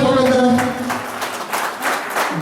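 An audience at a school alumni felicitation event gives a short burst of clapping to welcome teachers to the stage, loud and close, with a voice talking over it.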